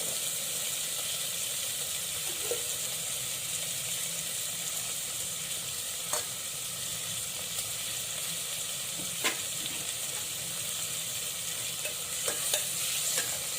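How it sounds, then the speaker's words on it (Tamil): Eggplant sautéing with onion and a large tomato in a pan gives a steady, close sizzle throughout, with occasional sharp clicks and scrapes of a spoon stirring, and no one speaking. "1/4 கிலோ கத்திரிக்காய்க்கு ஒரு வெங்காயம், ஒரு பெரிய தக்காளி போட்டு நல்லா வதக்கணும்"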